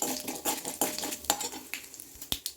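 Chili and coriander powder fry in hot oil in a pan for a Chettinad-style dish, a crackling sizzle broken by repeated metallic clinks and scrapes of a spoon stirring against the pan.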